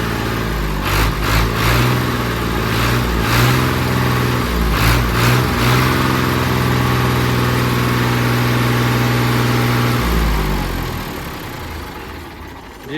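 A 2017 Fiat 480 tractor engine runs at idle nearby, a steady diesel chug with a low droning hum and a few sharper knocks, fading somewhat toward the end, with no talk.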